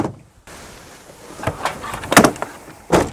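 A storage door on an elk hunting gear cabinet is opened, giving a few short knocks and rattles with a louder clunk near the end, close by with no talk.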